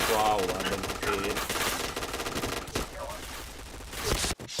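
Rapid automatic gunfire in a multiplayer shooter game, a loud continuous rattle of shots over game music and effects, with a brief dip near the end.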